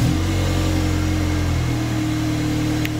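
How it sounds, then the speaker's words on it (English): A car engine runs steadily at close range, with a low rumble and a slight rise early on, like an engine just started and settling, with no talk over it. "Let me start the car."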